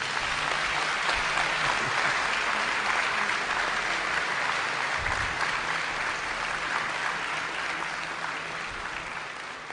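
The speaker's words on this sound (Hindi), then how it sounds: "इनके लिए जोरदार तालियां।" Hearty applause from a large audience at a spiritual gathering, a continuous wash of many hands clapping at steady strength that eases slightly toward the end, heard alone without speech.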